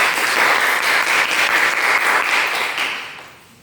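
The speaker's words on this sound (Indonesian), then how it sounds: "Tepuk tangan semua." A classroom of students applauds together, a dense, steady wash of clapping sustained for about three seconds before fading out at the end.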